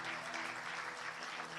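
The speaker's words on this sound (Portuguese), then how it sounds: "Eu quero um aplauso bem forte ao Senhor." A church congregation applauds the Lord, a fairly faint, even patter of many hands clapping together that is heard on its own with no voice over it.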